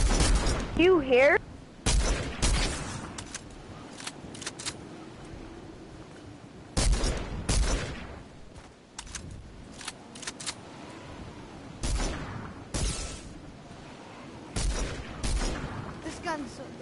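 Assault rifle gunfire in a video game, several short bursts spaced out across the stretch, loud and close, with someone talking in between over low background noise.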